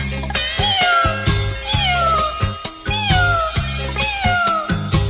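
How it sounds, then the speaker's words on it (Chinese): Meowing of a cat in a nostalgic Chinese pop song, repeated high gliding cries set over a steady band backing with a regular rhythmic beat. "窗外有只野猫轻轻地叫啊"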